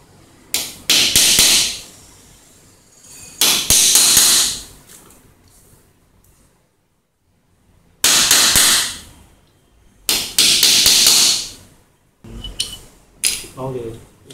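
Bursts of sharp metallic hammering on a small injection mold, with thin rods between the pieces, ring out in several separate clusters, each a rapid series of hard strikes, separated by quiet pauses.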